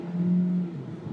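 Kia Niro hybrid car pulling away in sport mode, a steady engine and drivetrain tone rising briefly then settling, heard close from inside the cabin with no talk.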